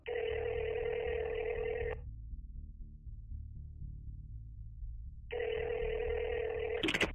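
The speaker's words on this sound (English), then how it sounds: "waiting at Sydney International Airport for a phone call" Two long electronic phone rings separated by a pause, with a low hum underneath; a short click sounds at the very end.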